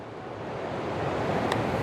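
The Alaknanda river at Badrinath rushes steadily as a broad, continuous roar of flowing water, close and fairly loud, with a faint wind-like hiss and no speech.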